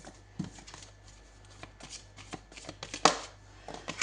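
Tarot cards being shuffled by hand at close range, a soft, continuous riffle of card edges with scattered sharper slaps and one louder burst partway through, no talking.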